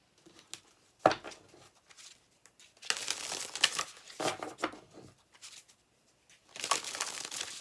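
A deck of cards is shuffled in several quick riffling bursts separated by pauses, a soft papery flutter heard close and alone with only faint handling noise between.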